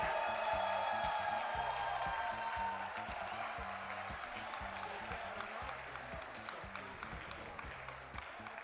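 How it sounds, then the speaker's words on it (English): Sustained applause from an audience at a civil service awards ceremony, a steady wash of clapping that stays loud throughout, with a faint musical tone at the start. "A round of applause for her, please."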